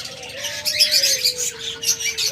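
A caged breeding pair of pet birds chirping close by, with busy overlapping high tweets in quick bursts over a thin sustained whistle-like note running through the whole stretch.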